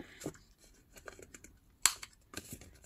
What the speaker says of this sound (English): I'm gonna also cut the corners with corner punch.